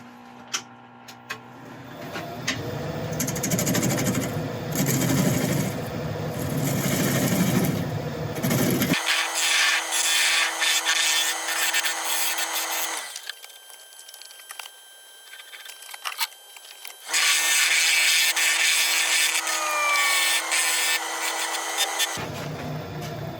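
Sanding on a spalted wood dolphin spinning on a lathe gives a broad, steady hiss over the motor's whir, briefly dropping to a quieter hum before the abrasive rush returns, with no talk.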